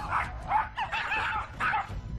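A terrier mix dog lets out a string of close, yappy barks and yips in about four bursts, loud and alone with no talk.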